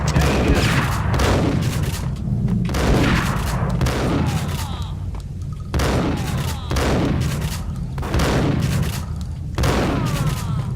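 Heavy shotgun blasts in the Max Payne game, about seven booming shots in a steady rhythm, each with a long rolling tail that runs into the next, loud and close.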